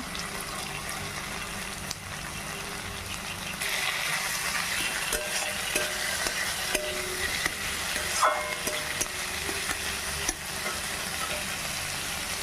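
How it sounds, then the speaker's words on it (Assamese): Dried fish tossed and fried in oil with salt and turmeric in a pan, a continuous close sizzle with occasional stirring scrapes and knocks throughout. "এইখিনি অলপ ভজা হৈছে, এতিয়া মাছখিনি ইয়াতে মিক্স কৰি দিম"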